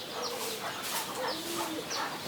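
Chickens and roosters cluck intermittently in short calls on a home farm as the birds are sold off, faint and somewhat distant amid steady background noise.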